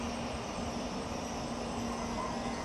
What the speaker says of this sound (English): Let's listen to some more train station sounds